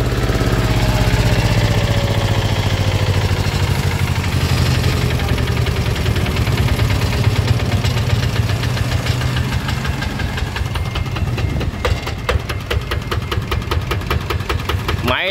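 A used engine for sale in Sóc Trăng runs steadily in a loud, close idle, with a constant low mechanical drone and a light knocking rhythm throughout, no voices over it.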